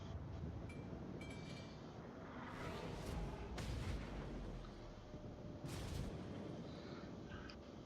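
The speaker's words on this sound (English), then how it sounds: "I'm staying on AP. Just keeping the shots going downrange." IJN Nagato battleship main guns firing armor-piercing shells in World of Warships, several heavy booming salvos with rolling rumble between them, fairly loud and without talk.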